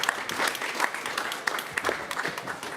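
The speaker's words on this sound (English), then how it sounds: "And now a big round of applause to the panelists," An audience applauds panelists at a sustainable-cooling panel discussion during COP29, a dense, steady burst of clapping from a sizeable crowd that holds at an even level throughout without any voices.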